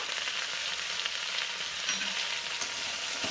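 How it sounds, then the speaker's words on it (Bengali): Brinjal and potato pieces with green chillies frying in hot oil, a dense, continuous sizzle with light crackles and a few soft stirring scrapes, close and steady with no talking. "তো চলো বেগুন আলুটাকে ভালো করে ভেজে নিই"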